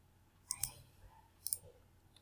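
Two sharp computer mouse clicks, each a quick double tap, about a second apart, close and fairly quiet against a faint room hum with no talking.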